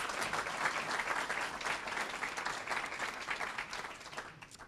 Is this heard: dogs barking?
no